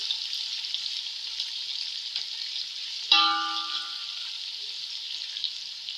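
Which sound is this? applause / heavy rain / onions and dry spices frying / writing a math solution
onions and dry spices frying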